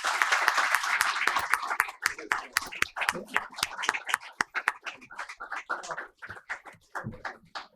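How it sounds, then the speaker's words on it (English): Event audience applauds two chamber presidents: a dense burst of clapping at first that thins into distinct, separate claps from individual hands as it fades out. "Ladies and gentlemen, a big round of applause for both the presidents"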